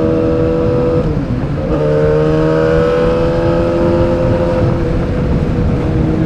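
A Yamaha R6 motorcycle with straight header pipes and no muffler idles loudly close by, then its engine pitch climbs steadily in a harsh, buzzing tone.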